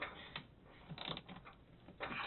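A ratchet fitted with an Allen wrench head is rocked back and forth, giving quiet, close bursts of clicking in an uneven rhythm.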